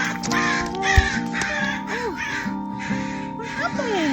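Crows caw repeatedly in harsh, loud calls close by, overlapping in an irregular chatter for the whole stretch.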